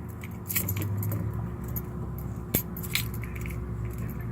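A large bunch of keys jangles on a carabiner, a steady close metallic rattle through most of the span with a brief sharper clink partway through.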